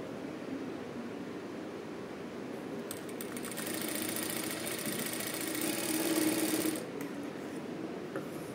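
A sewing machine stitches fabric in one continuous run, making a low steady mechanical whir that swells a little louder in the middle and then settles, heard close with no talking.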